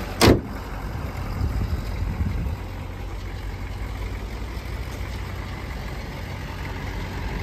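A 1981 Chevy Caprice Landau Coupe diesel idles with the hood closed, a steady muffled low rumble that runs unbroken after a brief knock at the start.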